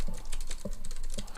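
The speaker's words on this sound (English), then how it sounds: "I'm just going to start typing as if I'm a hacker" Fast, uneven key clacks rattle on a computer keyboard held close to the microphone, a dense burst of rapid taps with no voices.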